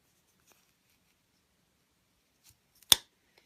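An old paper punch cuts through paper once, a single sharp crisp snip near the end, with a few faint ticks before it in a quiet room.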